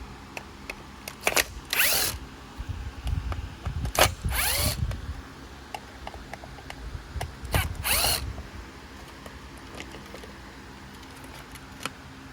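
A power driver spins out screws from a Woozoo globe fan in three or four short whirring bursts, close and clear, separated by small clicks and handling of metal parts and the fan housing.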